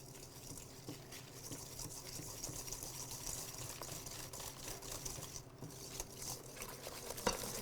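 A whisk steadily beats egg yolks, sugar and cornstarch into a thick pastry cream paste in a bowl, making a soft, continuous scraping and swishing that stays fairly quiet, with no talking.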